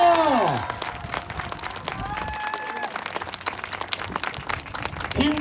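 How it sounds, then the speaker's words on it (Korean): A crowd at an outdoor campaign rally in Dongtan applauds and cheers in a dense, continuous wash of clapping mixed with shouts, with a loudspeaker tone sweeping at the start and end. "박수"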